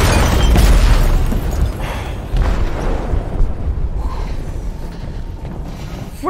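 A heavy boom from an explosive detonated in a ship's hold in the Detroit: Become Human video game, a loud low rumble at the start that decays into sustained creaking, grinding mechanical noise with no speech.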